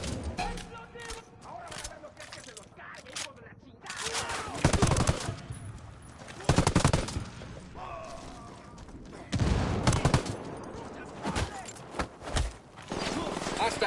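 Ghost Recon gunfight with bursts of automatic weapon fire and heavy shots coming in irregular clusters, loud and close, with voices talking around the shooting.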